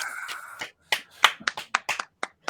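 A small group claps briefly to welcome a podcast guest, with sharp, close, uneven claps and snaps after a short burst of sound, dying out within a couple of seconds.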